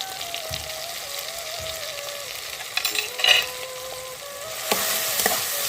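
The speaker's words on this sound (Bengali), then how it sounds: "দিয়ে আমি ভালো করে কষে নেব।" Salt, turmeric and chili powder fry in oil for a hilsa fish curry. A steady, close sizzle crackles throughout, with a brief stirring flurry in the middle and a brighter surge of frying near the end. A faint steady tone hums underneath.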